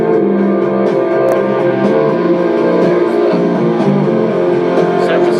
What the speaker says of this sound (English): There's the synthesizer sound.